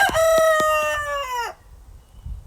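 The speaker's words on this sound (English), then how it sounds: "Thank you, Rooster." A rooster crows once, close and loud, a bright drawn-out cock-a-doodle-doo with rich harmonics that cuts off sharply, followed by quiet room noise.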